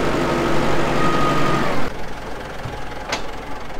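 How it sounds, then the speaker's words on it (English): A farm tractor idles in a sweet corn field, a steady low engine rumble that runs the whole time, with a brief sharp click near the end. "We're just leaving this tractor out here."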